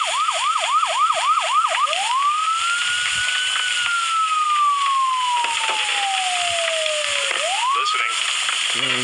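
An ambulance siren in the video game Emergency HQ gives a loud, steady run of fast yelping whoops, then long slow wails that rise and fall, continuous and up front without any talk.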